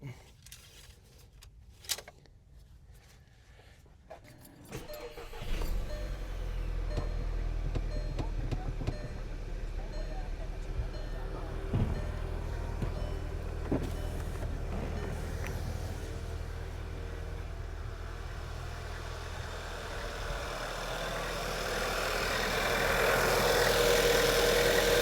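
A car engine cranks and catches after a few seconds of quiet clicks and rustling, then settles into a steady, close idle that rises slightly near the end.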